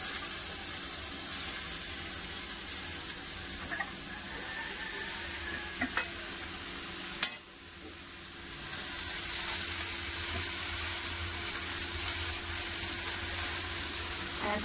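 Spinach goes into a pan where potatoes, radish and taro have been fried with spices, and a steady, close sizzle of frying runs throughout. It breaks off briefly with a clatter midway, then picks up again with stirring noises.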